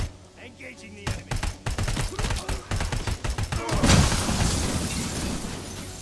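Gunfire in Robocop: Rogue City, a rapid burst of sharp automatic shots over several seconds, then a loud blast that leaves a hissing, crackling wash of debris.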